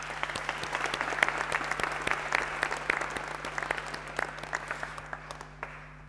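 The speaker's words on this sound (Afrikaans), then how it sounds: "Julle mag vir hulle lekker hande klap." A church congregation claps together in a large hall with a low hum underneath, the applause thinning into scattered claps before stopping.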